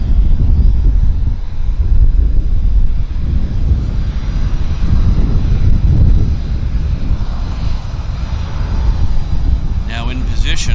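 Strong wind buffets the microphone at Vancouver YVR airport, a continuous loud low rumble throughout, with an aircraft engine faintly present beneath the gusts.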